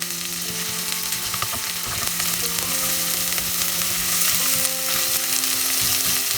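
Chopped red onion with grated garlic and ginger sizzles loudly in a hot pan, a dense, steady frying crackle close up with faint background tones and no speech.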